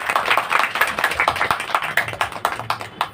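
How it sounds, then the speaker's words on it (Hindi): An audience at a Brahma Kumaris spiritual gathering in Gwalior claps together in thanks, a dense, steady patter of many hands lasting the full stretch at fairly close range. "5:30 बजे आने वालों को ताली बजा करके धन्यवाद"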